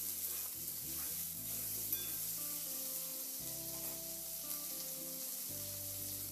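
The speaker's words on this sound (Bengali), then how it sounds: "এবার আলু আর ছোলা এই পর্যায়ে খুব ভালো করে একটু নাড়াচাড়া করে ভেজে নিতে হবে" Potatoes and soaked chickpeas stirred and fried in a pan for a vegetarian papaya chhakka, giving a steady soft sizzle with faint scraping under a constant hiss.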